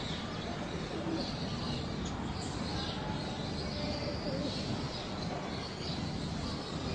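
Pigeons coo softly in the background, faint and distant beneath a constant broadband hiss, with a few light chirps scattered through the steady wash of noise.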